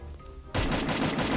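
Gunfire in an online shooting game: after a quiet moment a sudden loud burst of rapid automatic shots rattles on steadily to the end.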